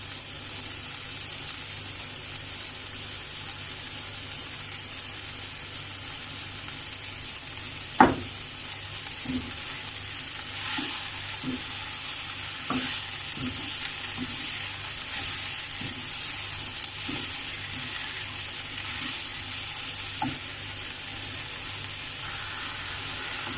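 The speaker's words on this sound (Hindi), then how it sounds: "अब वेजिटेबल को थोड़ा फ्राई करना है" Mixed vegetables frying with softened onion in a pan, a faint steady sizzle with one louder knock and scattered light taps of a spoon against the pan, no speech.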